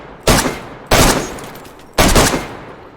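Three loud gunshots fired at a car window in DayZ, each a sharp crack with a short decaying tail, spaced about a second apart, close and alone.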